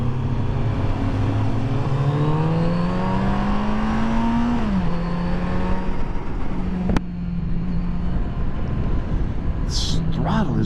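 A 2023 Kawasaki Z900RS Cafe motorcycle engine hums under way, its pitch climbing as the throttle opens, dipping, then settling to a steady drone, close and continuous with a sharp click partway through.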